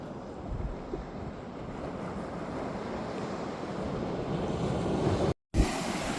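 Steady ocean surf rolling onto a beach in Morocco, a continuous broadband wash of waves with some wind buffeting the microphone and a brief dropout near the end.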